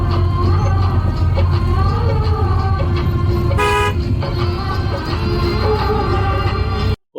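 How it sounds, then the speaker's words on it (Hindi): A vehicle horn gives a short toot on a mountain road amid steady engine drone and instrumental music playing from a speaker, the horn sounding once briefly over the continuous background. "उसके बीच बीच में जो हॉर्न की आवाज है"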